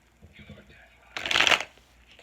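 Tarot cards being shuffled during a reading, a dense papery riffle burst lasting about half a second after a quiet stretch with faint soft handling noise.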